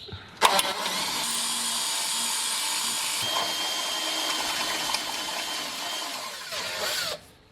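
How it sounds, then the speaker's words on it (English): A power drill runs with a 10mm bit through metal during drive shaft setup work, a steady loud whine starting abruptly and holding for about seven seconds before cutting off, with no talk. "got the 10mm drill bit through"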